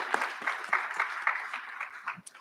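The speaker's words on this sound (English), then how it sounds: "let's give her a round of applause for her excellent work" An audience at a recognition ceremony claps in a short, lively burst of scattered hand claps that tapers off within a couple of seconds.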